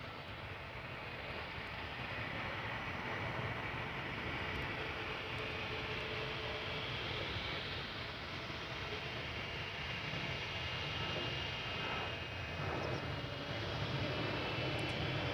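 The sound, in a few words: KLM Embraer 175 jet to Aberdeen at Schiphol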